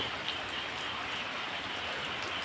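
Afternoon rain pours down in a dense, unbroken hiss, constant and fairly close throughout the short stretch.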